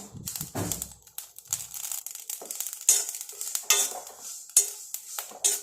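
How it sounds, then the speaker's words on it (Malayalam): Mustard seeds pop and crackle while roasting dry in a hot pan, with scattered sharp sizzling bursts and small stirring scrapes, close and moderately loud, with no voices. "കടുക് നല്ലപോലെ പൊട്ടുന്ന കേൾക്കാം"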